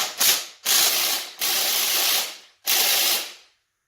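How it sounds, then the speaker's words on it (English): A ratchet works the 7/16 rod bolts on an LS engine in four loud, rasping strokes separated by short pauses, close up and with no talking. "She doesn't like that, so we'll have to use a ratchet."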